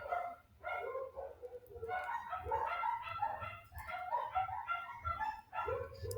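Several small dogs bark repeatedly in a steady string of yaps and whimpers, fairly close and clearly audible, with no talk over them.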